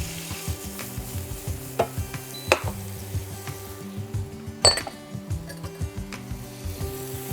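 Leeks softening in butter and olive oil in a pan, a steady low sizzle under frequent spoon scrapes and clinks as they are stirred through, close and moderate in level with no talk.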